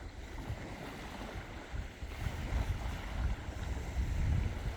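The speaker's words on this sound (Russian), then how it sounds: "Ветер сильный" Strong wind at Lake Peipus buffets the microphone with a continuous low roar that gusts louder toward the end, with no voices.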